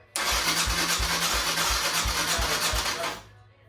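A Kawasaki KLX140 dirt bike engine with low compression cranks over in a rapid, even rhythm for about three seconds without catching, then falls quiet.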